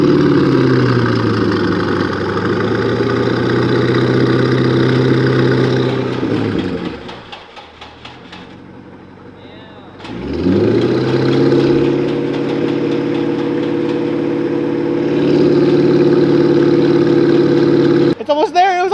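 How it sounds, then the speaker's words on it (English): A Nissan Z car engine idling with a steady rumble, then briefly dropping off before restarting and rising into light revs, holding a strong, even drone near the microphone with people talking over it. "give it a little bit of revs"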